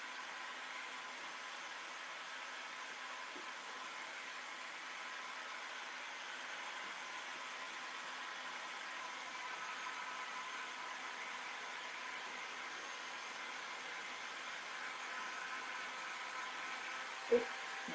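A hair dryer blows steadily as it heats a plastic globe, a flat, quiet whooshing hiss that holds unchanged for the whole stretch, ending with a single faint click.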